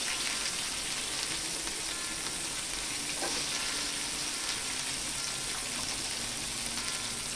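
Onion, green and red chillies, fennel seeds and bay leaf sautéing in a pan make a constant bright sizzle, close and even, with a few soft stirring knocks and no speech.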